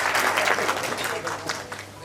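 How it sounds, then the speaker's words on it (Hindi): Crowd applause at a book launch event, a brief dense burst of clapping that swells and fades slightly over two seconds, moderately loud. "जोरदार तालियां नासिर भाई के लिए बजा दें।"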